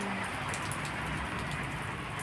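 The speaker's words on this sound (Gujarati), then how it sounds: "ધીમે ધીમે વરસાદ ચાલુ છે" Light rain falls gently and continuously, a soft even patter and hiss of drops close by with no other sounds standing out.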